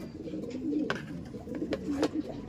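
A pet bird coos softly in a low, throaty rolling pattern, several short coos in a row heard close up against light background noise.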